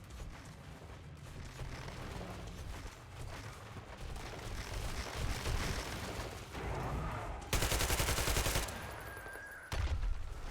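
Gunfire in Metro Exodus, Sam's Story DLC, rapid bursts of shots rattling through a busy game soundscape, fairly faint overall, with a louder harsh burst near the end.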